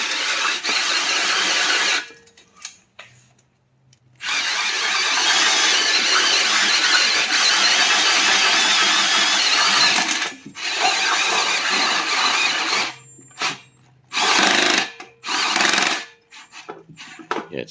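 A power drill whines loudly and continuously as it bores through the metal hydraulic tank of a Case 1816B skid loader, pausing briefly, then running in short bursts near the end.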